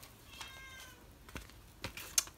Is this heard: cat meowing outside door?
yes